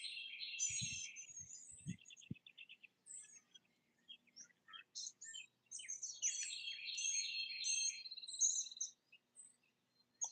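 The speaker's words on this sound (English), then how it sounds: "I'm hearing at least three different kinds of birds." Several kinds of birds sing outdoors, with bright overlapping chirps and trills coming in bursts at moderate distance, plus a few soft low thumps early on.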